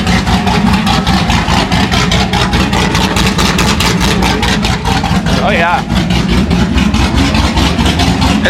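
Loud, steady idle of a Corvette C6 Z06 engine with new heads and cam, a choppy rhythmic lope pulsing up close throughout, with someone speaking briefly over it.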